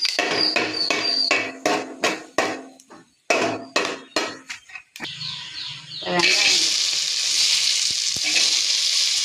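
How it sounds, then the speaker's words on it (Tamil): Whole spices — cinnamon, cloves and cardamom — dropped into hot ghee for kaadai biriyani: a run of sharp rhythmic knocks and clatters, a brief pause, then a loud steady sizzle rising and holding to the end. "வச்சுட்டு பட்டை, கிராம்பு, ஏலக்காய் எல்லாத்தையும் போட்டு நல்லா வறுத்துக்கலாம்"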